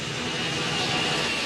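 A passenger plane in flight: a loud, steady broadband engine and air roar with a faint high whine, continuous and even throughout.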